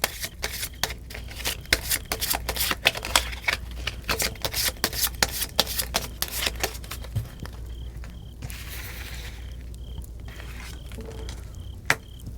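Tarot cards are shuffled in a fast run of crisp riffling slaps, close and clear, then a few cards are drawn and laid down with softer flicks and taps.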